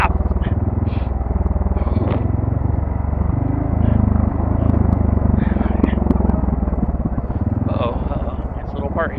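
An ATV engine drones steadily under engine braking on a steep 45-degree off-road descent, a loud continuous low rumble with slight pitch shifts, while people talk over it.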